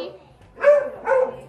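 A grumpy old dog gives two short, close barks about half a second apart, with speech around them.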